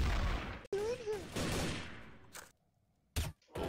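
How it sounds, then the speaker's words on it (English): Gunfire in Garry's Mod Trouble in Terrorist Town, a burst of close shots with a whistling tone mixed in and a voice talking over it, then a short pause and a couple more sharp shots. "You shot at him!"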